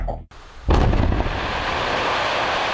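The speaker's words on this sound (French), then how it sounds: "Destruction à l'explosif d'un éboulement au-dessus d'une route." A dynamite blast clears a rockfall above a road: one huge, sudden boom bursts out after a brief silence, then a long, loud rumbling roar of falling rock and debris that stays steady to the end.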